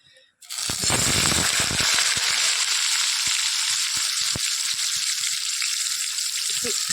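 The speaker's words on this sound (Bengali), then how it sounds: "মাছটা ভেজে এই যে কড়াইয়ের মধ্যে দিয়ে দিয়েছি তোমার কি বলে জিরা ফোড়ন" Cumin seeds dropped into hot oil in a wok burst into a loud, sudden sizzle, followed by steady frying with irregular popping crackles.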